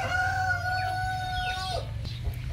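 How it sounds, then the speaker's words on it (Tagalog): A Red Queen hen, a show-type chicken, gives a drawn-out rising call close by, followed by a few brief clucks against a low steady background hum. "Ito po ang ating Red Queen na hen."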